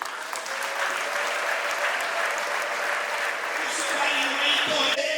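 A church congregation applauds in a sustained, dense wave of clapping that carries on steadily throughout at moderate volume, with some faint voices mixed in.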